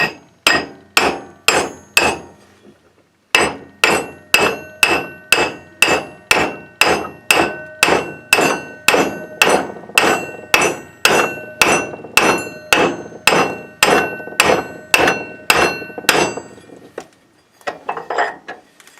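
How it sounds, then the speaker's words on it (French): A hammer strikes a part of a Kubota engine variator by hand in place of a press. About thirty sharp metallic blows land close and loud at a steady rhythm, with one brief pause early on and a final short cluster of taps. "Je vais aller chercher un marteau."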